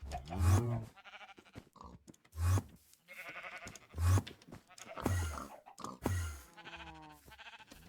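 Minecraft sheep in the ATM10 modpack bleating repeatedly, five or six loud nasal baa calls spaced about a second apart, close and clear with brief pauses between them.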